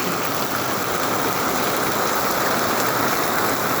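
Heavy rain pours down steadily in the Philippines, a dense, constant broadband hiss with no pauses, close and loud.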